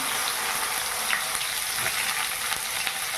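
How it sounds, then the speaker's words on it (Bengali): Cut and washed bitter gourd pieces frying in hot oil in a wok, giving a continuous dense sizzle and crackle up close with a few faint pops. "কড়াইতে এই যে দেখুন তেল গরম হয়ে গেছে। এবারে কেটে ধুয়ে রাখা করলা এর মধ্যে দিয়ে দিলাম।"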